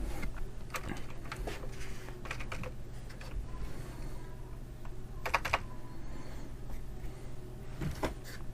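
Rapid clicks of a computer keyboard as someone types a login ID, keystrokes coming in irregular bursts over a steady low room hum, close and moderately loud with no speech.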